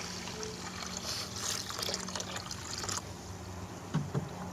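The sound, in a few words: rock specimens bubbling in acid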